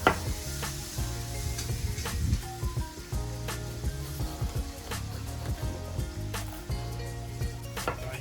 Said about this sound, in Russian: Пока обжариваем лук с морковкой